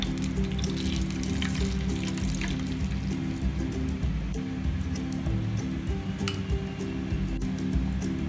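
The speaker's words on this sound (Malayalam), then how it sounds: "പാൻ ചൂടായതിന് ശേഷം അതിലേക്ക് ബട്ടർ ഒഴിച്ചു കൊടുക്കാം പാൽ കൂടി ഒഴിച്ചു കൊടുക്കാം" Butter and milk hit a hot pan while making a Japanese cheesecake, giving a steady, dense sizzle and bubbling hiss that runs unbroken at moderate loudness, with a low hum underneath and no talking.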